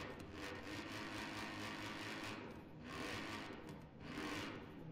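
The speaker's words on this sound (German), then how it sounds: "Ach schön, so ein V8 Motor." A rough, throaty V8 car engine in Forza Horizon 4 rumbles steadily, swelling in a few gentle surges, faint and continuous with no talking.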